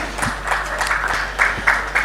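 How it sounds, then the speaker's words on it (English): Brief, moderate audience applause at a retail conference and awards event, a steady wash of clapping with a few closer claps standing out. "Let's give her a big, big round of applause as we welcome her on board."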